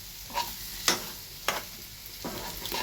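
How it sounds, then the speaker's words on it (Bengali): Veg roll filling being stirred in a hot frying pan, a steady sizzle broken by several scraping strokes of a utensil against the pan, close and moderately loud with no talking. "এবার ভালো করে এটাকে নেড়ে নেব"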